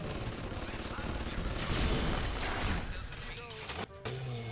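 Automated turrets open fire in the video game BioShock, a dense rattle of rapid shots that keeps going steadily under a voice for several seconds before a short break.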